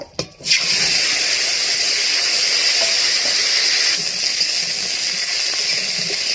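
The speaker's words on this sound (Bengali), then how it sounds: "ফুলকপি আলু ভেজে নেব" Cauliflower and potato frying in leftover fish oil in a pan, a steady loud sizzle and hiss that holds throughout after a brief clatter at the start.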